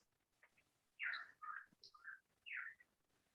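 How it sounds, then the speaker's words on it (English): Several birds chirp and tweet in short bright calls, a few clear bursts spaced over a few seconds against a quiet background, with no talking. "I can hear birds tweeting."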